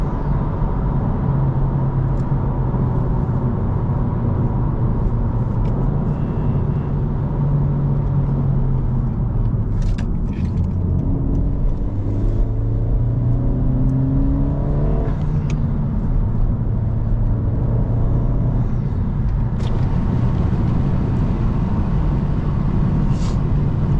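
Steady road rumble and engine drone inside a moving Honda Civic Si making about 250 horsepower, with faint rattles and shifting engine pitch as it drives along a bumpy road, continuous and loud.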